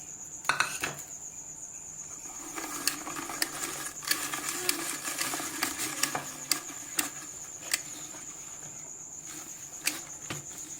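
A large onion being chopped with a knife for a Pakistani potato curry, a series of crisp, uneven knife taps on a board, some close and sharp, over a quiet background hum.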